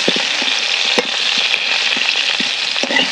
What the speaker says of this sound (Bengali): এ নাও মা, আলুগুলো ভালো করে ভেজে ফেলো।